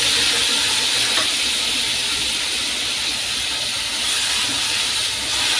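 Peeled whole mangoes slid gently into hot oil with roasted spices give off a steady, loud, hissing sizzle that holds evenly throughout, close by and with no voices.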